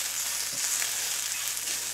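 Butter sizzling and spitting in a hot pan, a steady crackling hiss with occasional small pops.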